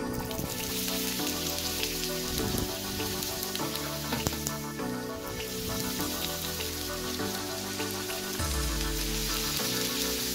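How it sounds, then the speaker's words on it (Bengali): Cubed onions frying in hot oil with cardamom and cinnamon for chicken bhuna, a loud, dense, continuous sizzle close up with shifting crackles throughout. "এগুলো গরম হওয়ার পরে দিয়ে দেব কিউব করে কাটা পেঁয়াজগুলো"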